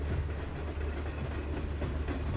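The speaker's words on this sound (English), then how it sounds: "They really have a whole train going underground" A train runs through the Gotthard Base Tunnel deep underground in Switzerland, producing a continuous loud rumbling roar with faint rhythmic clatter throughout.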